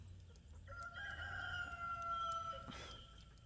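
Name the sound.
chickens on a farm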